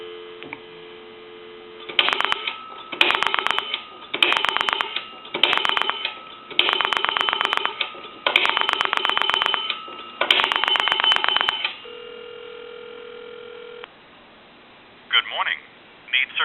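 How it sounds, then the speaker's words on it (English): A three-slot payphone under repair gives a steady dial tone, then bursts of touch-tone dialing to a time-and-temperature number, followed by a renewed tone and faint ringback, each burst crisp and close. "Give you some dial tone."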